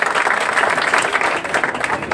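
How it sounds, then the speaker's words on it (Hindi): An audience claps at a village cleanliness and literacy program in Handia Basupur near Prayagraj, a loud dense wash of applause that holds steady throughout with a faint voice beneath it. "ताली बजा दीजिए।"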